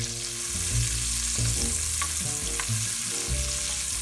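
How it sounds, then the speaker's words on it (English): Asparagus frying in oil in a pan for a penne pasta dish, giving a steady close sizzle broken by a few stirring scrapes, with no talking. "Now I'm going to add that asparagus first. There's the asparagus going in."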